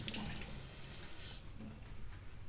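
Tap water runs steadily into a sink to wet a cloth while a Honda HRU19M2 lawnmower is being cleaned, a continuous close hiss and splash with no talk over it.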